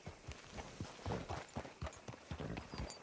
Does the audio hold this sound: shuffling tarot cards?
no